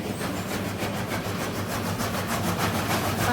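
A fodder chopping machine runs continuously on a farm, giving a loud, steady rhythmic whirring and rasping with regular pulses, with no voices.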